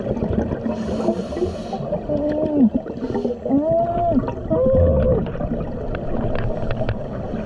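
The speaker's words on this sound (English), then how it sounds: "You can actually hear me squealing as she makes her entrance." A diver's high-pitched squeals ring out underwater as a tiger shark approaches off Bimini, rising and falling tones over bubbling, gurgling water and breathing-regulator noise, with no talk.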